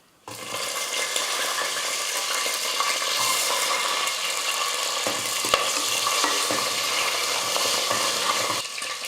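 Garlic cloves and green chillies sizzle steadily in hot oil, a loud, continuous frying hiss with occasional stirring clinks from a spoon against the pan.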